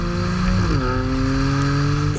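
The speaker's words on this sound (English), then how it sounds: "there's a lot of noise in this cabin. It makes a surprising, or it makes a remarkable amount of interior noise, engine noise" Loud, steady drone from the twin-turbo six-cylinder of a 2015 BMW M3 heard inside the cabin, its engine tones sliding downward partway through as revs change, with no talking.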